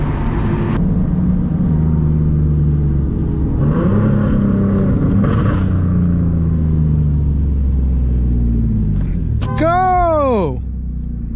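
A boosted Nissan 370Z pulls hard with a loud, droning engine heard from inside the car, with a shift partway through and a sharp rising whine near the end.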